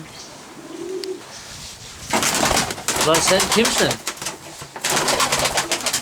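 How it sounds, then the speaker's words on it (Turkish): A pigeon coos softly in a low, rolling rhythm, joined by bursts of wing flapping and a voice speaking briefly nearby. "Bir tane kuş kalmış burada"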